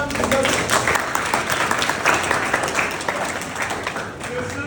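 Steady applause from an audience, a dense continuous patter of many hands clapping at once, fairly loud and sustained throughout.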